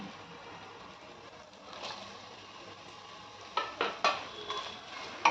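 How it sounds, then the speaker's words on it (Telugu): Green chillies go into ginger garlic paste frying in a pan for chicken curry: a faint sizzle underneath, then several sharp clinks and scrapes of a utensil against the pan near the end. "ఇప్పుడు పచ్చిమిరపకాయలు వేసుకుందాం."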